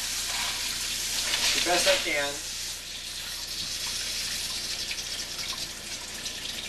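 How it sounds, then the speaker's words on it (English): Tap water runs steadily into a siphon tube for home-brewed beer, a broad continuous hiss and splash close by, with a brief louder gurgle early on and a voice speaking over the start. "So what I'm going to do is I'm going to basically fill this with water"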